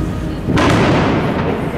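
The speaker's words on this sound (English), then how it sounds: "Some fireworks." Fireworks burst over Moscow on a festive weekend, a dense booming crackle that swells at once and rumbles on loudly for the rest of the moment.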